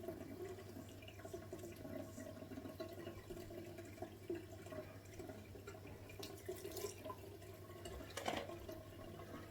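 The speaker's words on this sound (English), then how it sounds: "Quick rinse again, just bathe your face, don't splash it." Tap water runs softly and steadily while a face is rinsed after shaving, a low continuous wash with occasional small splashes and a faint hum beneath.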